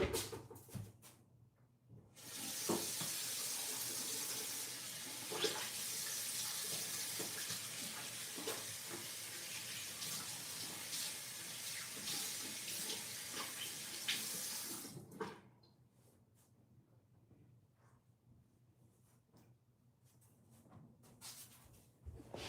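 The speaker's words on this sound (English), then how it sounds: "Let me wash my hand real quick." A bathroom tap runs for handwashing, with water gushing steadily into the sink for about twelve seconds before shutting off, followed by quiet room sound.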